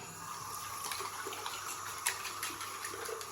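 Running water pours steadily from a tap while produce is washed, a continuous close splashing rush with small clinks and bumps, no talk.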